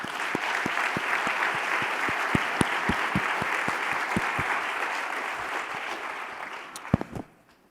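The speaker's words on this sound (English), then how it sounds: "Can we clap it up for them one more time?" Audience applause at a student awards ceremony, dense and sustained, with a few louder claps standing out before it fades at the end.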